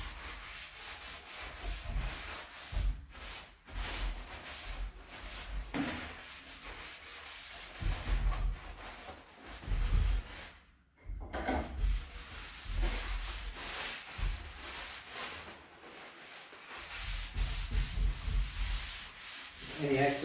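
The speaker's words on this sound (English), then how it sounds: "I'm going to take a rag, rip off the excess." A rag rubs over a wooden bed frame to wipe excess varnish off the surface, making a continuous soft scrubbing close by that swells and eases with each pass for about twenty seconds.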